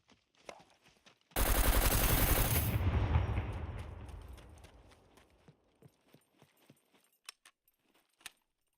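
Gunfire in the survival video game SCUM: a sudden loud burst of rapid automatic shots runs about a second and a half, then decays into a long echoing tail, followed by scattered faint clicks and taps.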